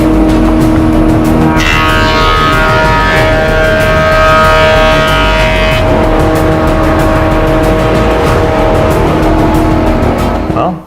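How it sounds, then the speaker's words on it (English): Glued-up beech boards fed through a planer, a loud sustained mechanical whine and roar with a sharper, higher cutting tone in the middle as the wood passes, then easing off. "I just need to run it through a planer so I get a nice smooth flat surface on both sides"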